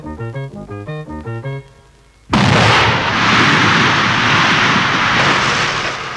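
Sudden loud explosion bursts in after a short passage of music and gives way to a sustained, roaring rumble that fills the rest of the clip, heard during construction of the first Paris–Lyon high-speed TGV line.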